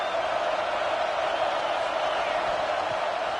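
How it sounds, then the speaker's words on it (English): A home crowd at a college football game roars continuously, a dense, loud wash of cheering and shouting that holds steady throughout, with a commentator's voice over it. "how nice is it to have the home crowd going absolutely bananas?"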